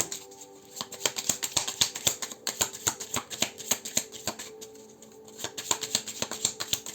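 Tarot cards are shuffled by hand for a reading, producing a close, steady patter of crisp card flicks and riffles in irregular bursts, with no voices.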